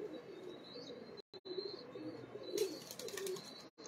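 Pigeons coo softly in a loft, low murmuring calls running continuously with a few faint chirps and a brief flutter; no talk over them.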